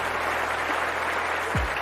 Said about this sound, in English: Applause for the Gargoyles.